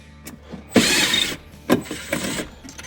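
A power drill whirs in short bursts, backing out machine screws from an EPIC E40FX PowerPlate, with mechanical clicks between the runs, close and fairly loud.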